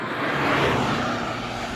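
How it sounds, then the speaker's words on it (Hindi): Fast traffic passes on the Ganga Expressway in India, a broad whooshing roar from a vehicle swelling and fading over a couple of seconds against steady road noise, with no talking. "गाड़ियाँ बहुत तेज़ी से जा रही हैं।"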